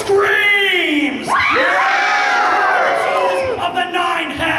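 A crowd at a live wrestling show at a comic convention screams and whoops in loud, overlapping shrieks that rise and fall in waves, with high-pitched yells standing out near the front.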